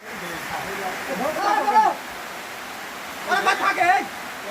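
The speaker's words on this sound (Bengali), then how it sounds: "ইতিমধ্যে বৃষ্টি শুরু হয়ে গেছে" Heavy rain falling at an outdoor picnic where khichuri is cooking on a stove, a loud constant hiss throughout, with people talking over it twice.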